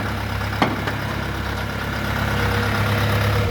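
Dongfeng 404 tractor engine idling nearby at a steady low rumble, with a brief clank near the start and a slight rise in loudness toward the end, with no talk over it.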